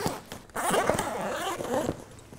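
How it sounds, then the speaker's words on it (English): A zipper is pulled open on the carry bag of a LONO Aero inflatable kayak, a close, raspy ripping sound lasting over a second with brief handling noises around it. "Unbuckle the side clips and unzip it like a suitcase."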